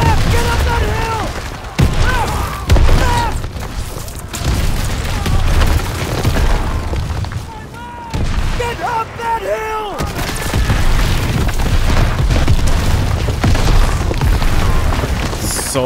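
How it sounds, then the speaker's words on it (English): Explosions and gunfire in the Call of Duty WW2 campaign level Death Factory, with loud, dense booms and shots rumbling continuously throughout, mixed with in-game voices and music. "So much explosions."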